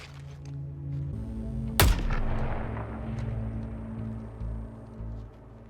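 A single loud, sharp gunshot from the Suicide Squad Kill the Justice League video game, with a booming tail that decays over a few seconds above a low game-music bed.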